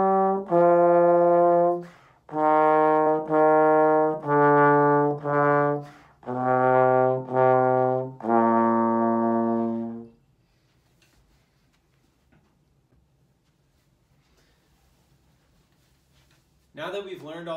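A trombone plays Twinkle, Twinkle, Little Star in clear, sustained notes with the tune's paired rhythm for several seconds, then silence, and a brief different sound enters at the very end.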